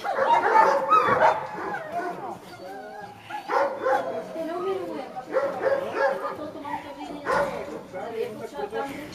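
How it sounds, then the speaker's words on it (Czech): A dog yips and barks in short bursts close by, mixed with people talking over it throughout. "Tam štěká, tam okamžitě štěká."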